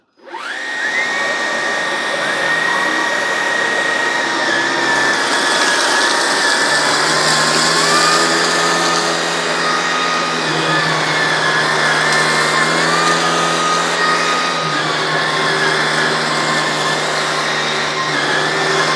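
A Hoover ONEPWR Emerge Pet and a Shark Stratos cordless vacuum run on carpet strewn with hair, cereal, coffee and dirt, giving a loud, steady motor whine with a shifting tonal hum and rushing airflow throughout.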